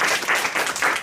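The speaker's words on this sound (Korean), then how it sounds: "함께 박수로 박사님을 모시겠습니다" A congregation at a church service applauds to welcome a guest speaker to the pulpit, filling a brief moment with dense, steady clapping.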